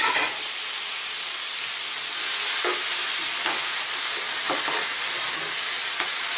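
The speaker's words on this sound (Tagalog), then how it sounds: "lulutuin lang po natin yung kamatis once na mag-produce na siya ng ng moisture" Tomatoes sautéing in a pan for fish sarciado, giving a loud, continuous hiss and sizzle with scattered crackles and stirring scrapes close by, and no talking.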